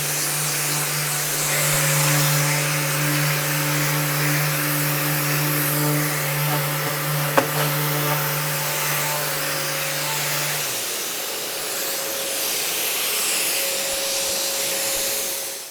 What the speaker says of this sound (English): now I'm going to do a final sand on my Vanity